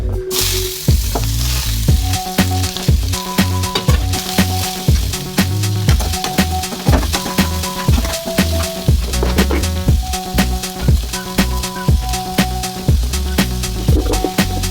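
Garlic, green chili and ginger sauté loudly in a pan for Kerala-style fish egg thoran, a steady close sizzle broken by rhythmic stirring scrapes and taps.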